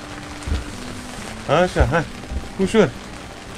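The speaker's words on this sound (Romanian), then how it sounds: "Plouă." Rain falls steadily during carp fishing on a canal in the Danube Delta, a soft continuous hiss under several short bursts of nearby talk.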